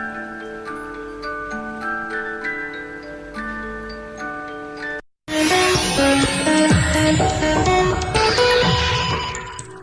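Traditional German cuckoo clocks ticking steadily at close range over a sustained musical backdrop, followed after a brief silence by louder, fuller music with a rhythmic tick pattern underneath; no speech.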